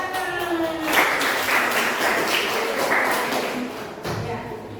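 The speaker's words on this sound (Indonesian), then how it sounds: "tepuk tangan" A burst of clapping from a group, steady and moderately loud for several seconds, with some voices mixed in before it tapers off.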